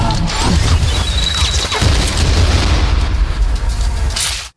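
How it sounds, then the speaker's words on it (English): Bolt launcher fire and explosions in the shooter game Trepang2, a dense, loud barrage of booms and crashes running continuously before cutting off abruptly. "the tri-firing bolt launcher"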